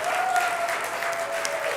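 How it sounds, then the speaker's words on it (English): Church congregation at a Sunday service giving a round of applause for sponsors, a short burst of even, moderately quiet clapping with a faint tone running underneath. "Let's give all of them such a round of applause."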